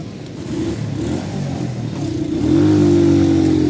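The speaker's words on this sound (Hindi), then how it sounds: "चलो भैया बाइक तो स्टार्ट हो गई" A motorbike engine idling roughly, then revving up louder and holding a steadier, stronger tone toward the end, close and with no talk.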